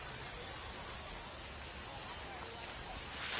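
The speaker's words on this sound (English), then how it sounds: "you can see the rain coming down behind us" Rain falls during a baseball game in MLB The Show 25, a faint, steady, even hiss of downpour that swells slightly at the end.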